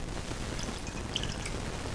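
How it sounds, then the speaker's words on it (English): Water carrying tomato seeds is poured from a jar into a sieve, making a soft, steady splashing trickle that stays close and fairly quiet from start to finish. "I'm going to pour directly into this"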